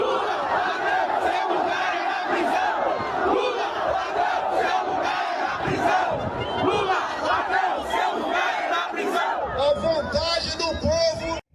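A large crowd in France boos and jeers at Lula, a dense roar of shouting voices rising and falling in loud waves, with sharper whistles and cries near the end.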